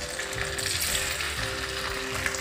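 Kachoris drop into hot oil over a medium flame and fry with a loud, dense, continuous sizzle and crackle, close up and without talk.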